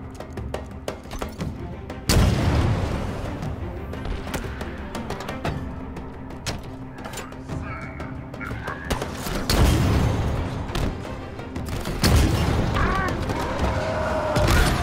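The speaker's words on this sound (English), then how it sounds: "Want to switch to the rocket launcher and just blow the hell out of that guy." Loud, repeated explosions and gunfire from a rocket launcher fight in Halo Infinite, with big booming blasts near 2, 9.5 and 12 seconds over constant battle noise and a voice talking.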